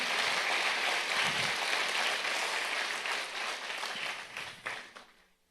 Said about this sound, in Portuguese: Aplauda Jesus em nome do Senhor.